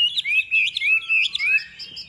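A hwamei songbird, a golden-billed caged bird, sings a bright, rapid run of high whistled phrases and warbles, close and clear with brief pauses between bursts and no voices.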